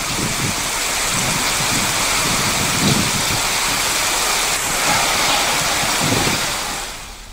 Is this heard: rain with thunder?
yes